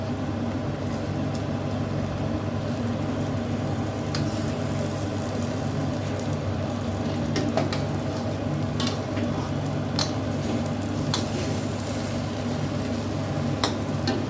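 Egg rice being stirred in a pan, a steady sizzle and low rumble running throughout with occasional light scraping ticks of the utensil, close and continuous with no talk.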